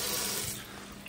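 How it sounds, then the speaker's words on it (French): Steady broadband hiss of water running from a tap, fairly loud at first and easing slightly, with no voices. "Le robinet avec de l'eau."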